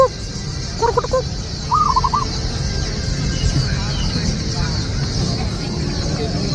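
A few brief soft coos from a perkutut (zebra dove) at a songbird contest in Kaohsiung rise above a steady hum and crowd chatter, and the birdsong stops after the first couple of seconds.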